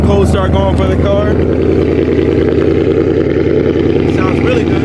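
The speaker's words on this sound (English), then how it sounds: "Little cold start going for the car." A car on a cold start, fitted with a ported Boss 302 intake manifold, runs loud and close with a rough, throbbing idle that holds steady for several seconds.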